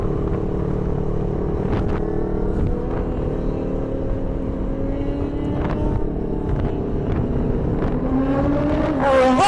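A 1000cc motorcycle on a road ride speeds past, its engine note rising into a loud, revving roar that builds toward the end, with a steady rumble of traffic underneath.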